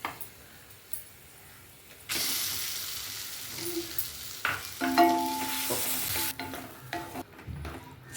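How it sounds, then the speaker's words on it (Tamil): Hot tempering with asafoetida being stirred into a ground coconut chutney, first quiet scraping, then a sudden sizzling hiss with spoon clatter and stirring that fades near the end. "ஸ்டவ் ஆஃப் பண்ணிட்டு அரைச்சி வச்சிருக்கிற துவையில சேர்த்துடலாம்"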